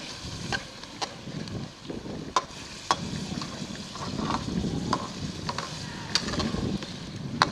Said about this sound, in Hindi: 1-2 मिनट इसे और फ्राई करेंगे